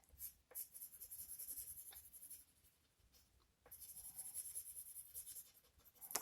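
Pencil scratching across a paper game sheet during a solo Patchwork Doodle board game, close and steady in two long bursts separated by a quieter pause, with no talk.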